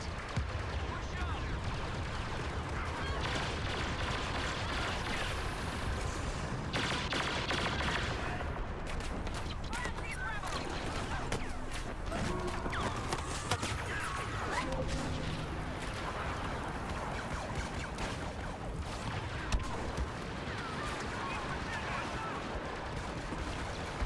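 Blaster fire in the Star Wars Battlefront video game, dense rapid volleys crackling continuously amid game noise, with voices talking through the action.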